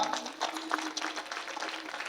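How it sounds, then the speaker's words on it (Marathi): A crowd at a kirtan applauds the chopdar (mace-bearer) with steady, moderately loud clapping that carries through the whole short stretch. "एक नंबर चोपदारासाठी टाळ्या वाजवा"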